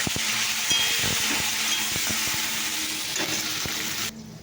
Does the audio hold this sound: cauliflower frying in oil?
yes